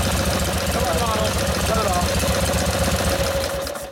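A 1952 Harley-Davidson panhead with a Linkert carburetor idling close by in a loud, steady, loping rhythm of rapid low beats, with a voice briefly over it before the engine dies down at the end.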